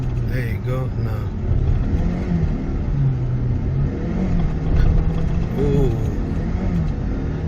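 2013 Kia Optima Hybrid running at high RPM inside the cabin, a steady loud engine drone with rising and falling pitch while someone talks over it.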